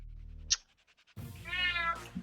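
A pet cat gives a short, near, clear meow at home, after a brief squeak and a low hum, standing alone without talk.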